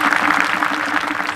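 Audience clapping at a kirtan during an Ashadhi Wari gathering, a steady dense wash of many hands applauding for the young men organizing the 48th Naam Saptah, continuous and fairly loud throughout.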